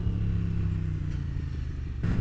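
A motorcycle in fourth gear shifting without the clutch: a steady, loud, low engine drone that holds, then a brief break and quick rise in pitch near the end as the next gear engages.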